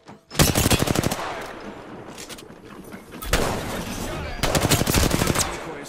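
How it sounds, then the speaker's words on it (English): Automatic gunfire from the Apex Legends video game crackles in loud rapid bursts, one near the start and another longer stretch later, with quieter sustained shooting in between. "I am taking fire, friends"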